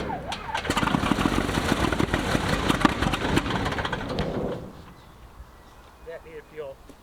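A 1953 Beechcraft D35 V-tail Bonanza aircraft engine runs loud and rough with dense rhythmic firing for about four seconds, then cuts off, leaving a quiet background with brief voices.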